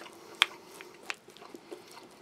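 Crunching bites into a hard baked wheat cracker eaten alongside a Polish army S.R.2 combat ration of meat and groats, giving a few sharp, close, separate crunches over a quiet background.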